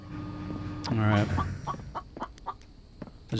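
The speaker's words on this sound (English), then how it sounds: "I hear you, chicken." A chicken in The Infected video game gives a loud burst of clucking, followed by several short, softer clucks spaced out over the next few seconds, then another loud cluck at the end.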